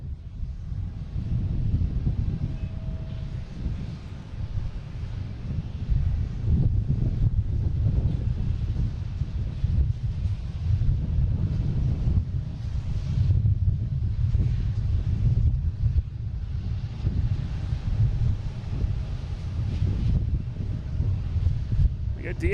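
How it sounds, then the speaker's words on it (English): Steady wind blowing across an outdoor spot at Boston Logan International Airport, a continuous loud low rumble of buffeting against the microphone that persists throughout without pause. "As you can probably hear, there's a good steady wind out here"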